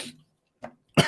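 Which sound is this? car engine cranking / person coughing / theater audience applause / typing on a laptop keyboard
person coughing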